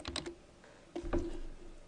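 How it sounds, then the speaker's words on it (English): Quiet typing on a computer keyboard in a PowerPoint 2010 session comes as two brief bursts of close key clicks separated by a short pause. "And now I can go ahead and type"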